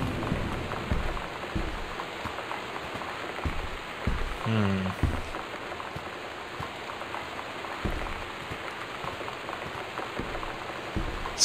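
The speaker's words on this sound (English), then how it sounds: "This storm won't stop." Steady storm rain patters on a surface in the video game Gone Home, a continuous dense hiss with a few brief thumps and a short low murmur partway through.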